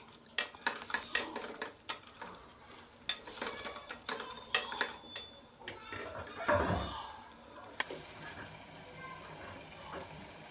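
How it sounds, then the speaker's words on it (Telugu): Tomatoes being mashed soft with a masher in a pan, a rapid run of close metallic taps and scrapes against the pan, later a brief rush of water, with faint talk in the background. "ఈ టమాటోలని స్మాషర్తో సాఫ్ట్గా చేసుకోవాలి"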